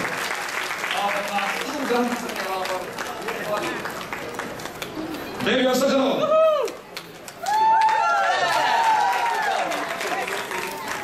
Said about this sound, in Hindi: एक बार तालियां हो जाए, तालियां बजती रहे